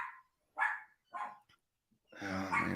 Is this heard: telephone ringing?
no